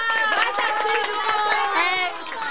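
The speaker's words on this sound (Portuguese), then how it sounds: "E agora, palmas pros campeões, gente." Crowd at a children's day football event in Cravolândia, Bahia, applauding and cheering the champions, a dense, continuous wash of claps and shouting voices close by, easing slightly near the end.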